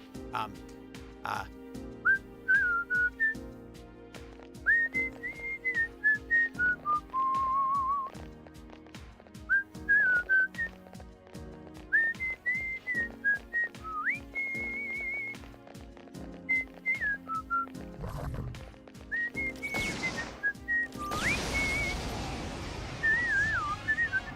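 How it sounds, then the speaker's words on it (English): A person whistles a repeating melody along with music from Persona 3 FES on PS2, bright rising and falling phrases over steady game audio with some background noise. "I'll whistle it again since you're probably done"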